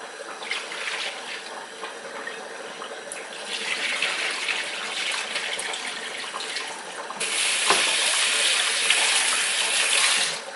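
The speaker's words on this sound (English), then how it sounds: "So I'm going to wash the fish." Stockfish rinsed under a running kitchen tap in a sink, a steady broadband gush of water that swells louder partway through as the flow strengthens, continuous with no talk.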